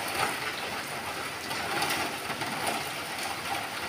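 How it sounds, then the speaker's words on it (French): Heavy rain pours down in a dense, continuous hiss of drops striking surfaces, steady and fairly close, with no talking. "aujourd'hui il pleut fort"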